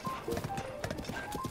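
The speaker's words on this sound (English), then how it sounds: "I'm gonna stop this horse in this area." Horse hooves clip-clop in a steady trotting rhythm in the video game The Legend of Zelda: Breath of the Wild, with the game's ambient sound running continuously underneath.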